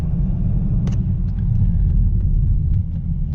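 Dodge Charger 392 with a 6.4L V8 on E85, fitted with a 180 thermostat, unlocked PCM and Hellcat injectors, cruising: a steady low engine rumble and road drone heard from inside the car, constant and fairly loud, with faint clicks above it.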